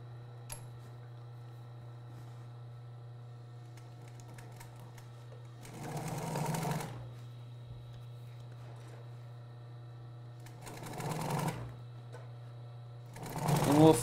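An upholstery sewing machine stitching a square 90-degree corner, running in three short whirring bursts separated by pauses, over a constant low electrical hum with faint clicks between runs.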